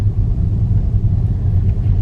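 A Tesla rolls along an evening neighborhood loop, giving a steady low road rumble and tire hum throughout, with no voices.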